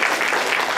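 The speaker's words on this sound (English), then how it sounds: "Let's give him a round of applause" An audience at a college admissions seminar claps, a dense, close burst of many hands filling the whole short moment with no voices.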